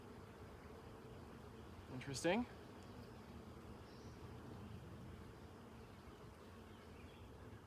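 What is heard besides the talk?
honey bees buzzing in an open hive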